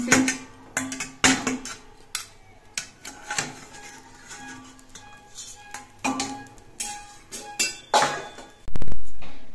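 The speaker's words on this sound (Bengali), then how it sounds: "এবার ঢাকনাটা খুলে নিচ্ছি" Lid being lifted off a hot kadai (wok) in a home kitchen while baking a cake, a series of sharp metallic clinks and clatters in irregular bursts, ending in a louder thud.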